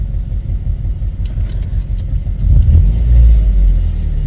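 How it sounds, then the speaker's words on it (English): A car or truck engine idling with a knock and exhaust noise, heard as a steady, close low rumble that swells louder toward the end, with no talking. "I got some kind of knock."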